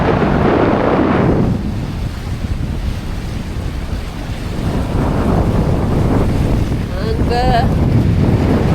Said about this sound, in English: I've got 12 knots of wind, I think, from the northeast